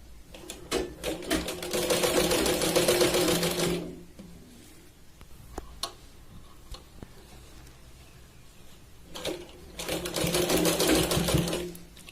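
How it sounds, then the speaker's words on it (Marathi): A sewing machine stitches piping onto a katori blouse in two loud, fast rattling bursts of several seconds each, with quieter handling clicks and fabric rustle between them. "इथे एका बोटाने आत प्रेस करायचं आणि दुसऱ्याने अलगद इथे शिलाई टाकायची आहे"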